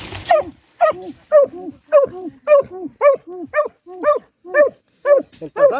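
Hunting dogs digging at a gopher burrow bark in a steady, rapid series of about a dozen loud, close barks, evenly spaced with brief gaps between them.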